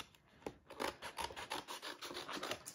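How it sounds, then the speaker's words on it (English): Scissors trim the edge of a paper page for a handmade adapted book, giving a quick rhythmic series of close, soft snipping and scraping cuts with no talking. "I'm actually going to take scissors and I'm gonna trim this edge because I want it to fit really nicely within the book"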